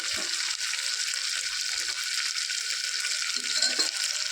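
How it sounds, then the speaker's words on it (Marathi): Black masala spice blend sizzles in hot oil in a pan for a Maharashtrian chicken curry, a steady high hiss with faint stirring scrapes near the start and end. "तो मसाला टाकल्यानंतर छान परतून घ्यायचं तरी येईपर्यंत"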